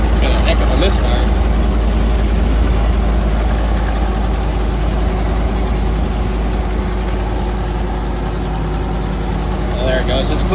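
A car engine idles loud and close with a heavy misfire, its low rumble stumbling unevenly and continuously, while a voice talks over it.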